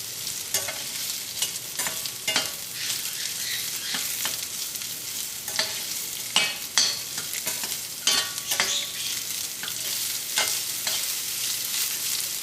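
Coconut pieces fry in a pan with a continuous soft sizzle, while a spoon repeatedly scrapes and taps through them in irregular strokes, close and without any voices.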